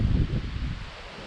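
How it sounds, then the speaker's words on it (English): Strong wind buffeting the microphone, a loud low rumble with rustling gusts that ease off toward the end. "Man, it's crazy windy today."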